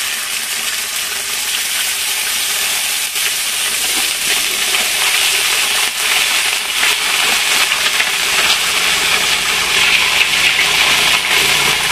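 Onions sizzling and frying in a pan at home, a steady dense hiss that stays loud and close throughout without pause, with no talking over it.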